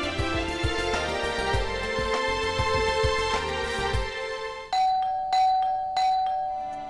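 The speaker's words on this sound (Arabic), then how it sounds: "شو ليش هيك كنت عم تدق الجرس؟" A doorbell chimes inside a home in a family drama, a run of bright ringing tones over busy background noise, then a few clear separate ding notes near the end.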